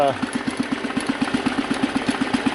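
The engine of a Husky 600 garden tractor running with a new cheap carburetor, a loud, steady, close idle with a quick even chug and a rough, rattly tone.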